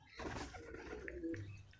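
Fancy pigeons at a breeding farm in Uluberia give soft, low cooing calls over a steady murmur of background noise, close by and moderately loud, with a few brighter chirps near the end.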